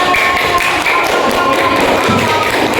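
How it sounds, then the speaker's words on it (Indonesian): A classroom group claps for a student team after their presentation, a close, loud, continuous patter of many hands with some tapping and thumping mixed in, running evenly throughout. "Boleh tepuk tangan buat kelompok 3."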